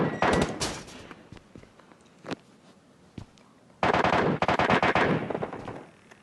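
Gunfire in the mobile battle royale game PUBG Mobile: a burst of rapid shots, then single isolated cracks, then a second, longer volley of quick loud shots, all without talk.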